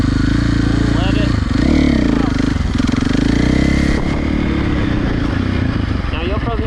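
A dirt bike engine revs loudly up close as the throttle is opened, a sustained buzzing drone that swells and dips throughout, with someone talking over it.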